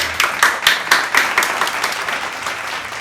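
Applause from a talk-show studio audience welcoming a guest, starting with a few sharp, distinct claps and swelling into a sustained, moderately loud round that gradually settles.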